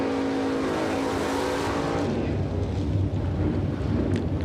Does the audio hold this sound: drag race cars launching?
yes